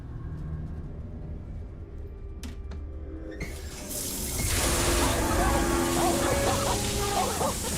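Water running from a tap in World of Warcraft Classic. A quiet room tone with a few faint clicks gives way to a loud, steady rush of flowing water that continues to the end.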